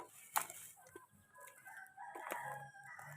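Chickens cluck and a rooster crows outdoors at moderate distance, with a sharp bird call near the start and scattered rustling.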